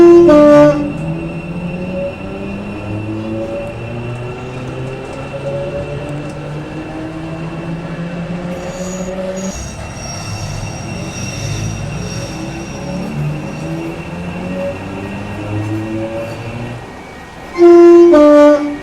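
A Class 456 electric train in the video game Project Transit rolls along with a loud, steady rumble and rising and falling motor tones, and a horn-like tone sounds at the start and end.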